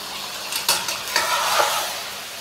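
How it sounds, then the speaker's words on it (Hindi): Pieces of mutton fry in ghee for a Peshawari karahi while a spoon stirs and scrapes the pan, a close loud sizzle with a few sharp clanks. "अभी हम मटन को घी के अंदर 5 से 7 मिनट अच्छे से फ्राई कर लेंगे"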